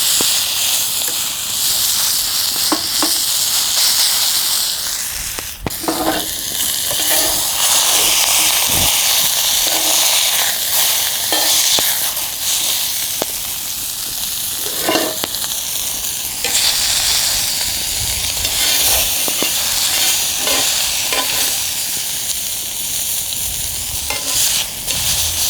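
Food sears and sizzles hard in a cast iron pan set over a very hot open fire, a steady loud frying hiss running throughout with occasional stirring scrapes and crackles.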